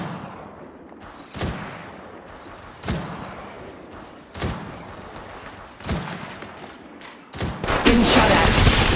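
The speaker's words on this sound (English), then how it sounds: "Getting shot at." Gunfire in the battle royale game Apex Legends Mobile, set on a winter map: several sharp, heavy shots spaced about every second and a half, then a rapid burst of sustained fire at the end, loud and close.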